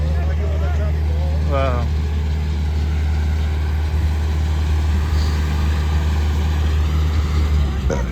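An 855 tractor strains under a load of sand, giving a constant deep, heavy engine drone throughout. Several people talk and shout over it.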